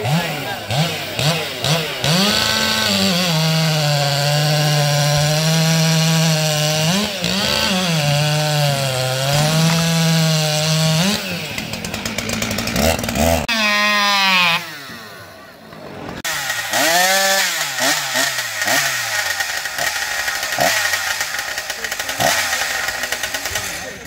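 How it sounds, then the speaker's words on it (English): Ported Stihl 271 chainsaw cutting wood at a timber racing competition, a loud, continuous high-revving engine scream that rises and falls in pitch as it bites the log, with a brief lull near the end before revving again. "the ported 271. That thing's a loud saw."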